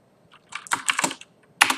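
Bursts of keystrokes on a computer keyboard while coding Java in Eclipse, a quick cluster of taps followed by a pause and a final sharp flurry, close and alone.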